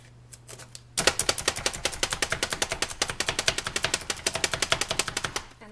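A knife chops rapidly on a cutting board, dicing ingredients for a cranberry jalapeno sauce, a fast steady run of close, crisp strikes after a quiet start.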